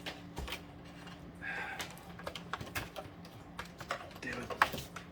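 Computer keyboard keys are pressed in quick irregular clicks and taps during a PC boot-menu attempt, close and fairly quiet, with occasional soft talk around them.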